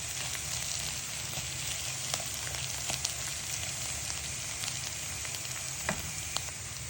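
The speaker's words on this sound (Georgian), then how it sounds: "პარალელურად შევწვი სოსისები ბოსტნეულთან ერთად მისერთმევად" Sausages fry with vegetables in a pan for a vegetable stew, giving a steady close sizzle and crackle with scattered small pops throughout, no voices.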